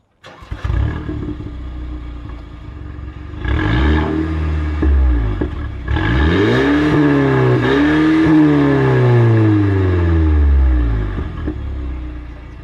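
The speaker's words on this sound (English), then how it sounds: "let's give it a little bit of a rev" A Porsche engine revs up hard several times, rising and falling in pitch, loud and close with a deep rumbling idle between bursts.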